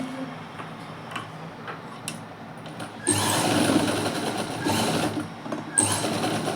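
A sewing machine stitches a cross belt onto the front of a garment: faint ticking and handling at first, then a close, loud, rapid mechanical run for about three seconds with a brief pause before resuming.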